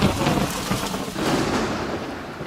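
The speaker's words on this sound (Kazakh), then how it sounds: "Жолда жаңбыр жауып, боран болады." Steady heavy rain with rumbling thunder as a storm sound effect in an animation, a dense, loud wash of downpour throughout with deep low rumbles.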